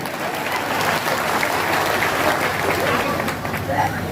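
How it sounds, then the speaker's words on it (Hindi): A large crowd at a political rally in Purnia claps in a steady, dense burst of applause, loud and continuous with a faint murmur of voices underneath. "अपने नाम पर तो ताली बजा लीजिए"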